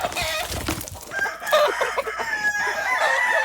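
Roosters crow loudly and repeatedly close by, with hens clucking around them in a busy poultry yard.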